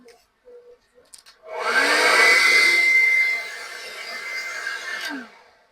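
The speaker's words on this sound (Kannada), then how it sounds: "ಲೆಫ್ಟ್ ಹ್ಯಾಂಡ್ ಅಲ್ಲಿ ಬ್ಲೋ ಡ್ರೈ ಮೆಷಿನ್." A handheld blow dryer dries hair during a hairstyling lesson: a loud, steady whirring rush of air switches on, eases to a lower level partway through, then cuts off after about four seconds.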